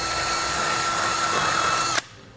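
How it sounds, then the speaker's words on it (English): A power drill spins a bit through a hitch spacer to clear out powder coating, a steady high whine lasting about two seconds before cutting off abruptly, close and loud, with no voices. "we'll just take a drill bit and clean those up"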